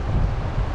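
Wind gusts buffet the microphone beside a Maine trout brook, a brief, steady low rumbling roar with no talking.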